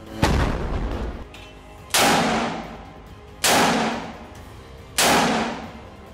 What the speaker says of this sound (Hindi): हमास के लड़ाके इस वीडियो में शॉर्ट रेंज वाले 114 mm कैलिबर रजूम मिसाइल से हमला करते हुए नजर आ रहे हैं।